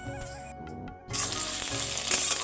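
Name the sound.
frying potatoes and stalks in hot oil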